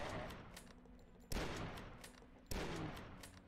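Gunfire from a weapon in the video game Dusk, a heavy shot every second or so, each sharp and loud with a short decaying tail, and lighter clatter between shots.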